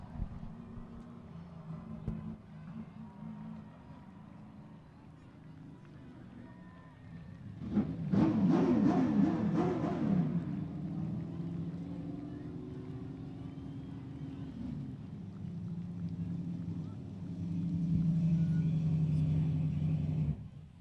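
Late model race car engine droning through a victory lap at Seekonk Speedway, rising to a louder pass midway then holding steady, with wind buffeting and a faint announcer voice in the background.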